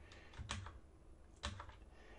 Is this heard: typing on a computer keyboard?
yes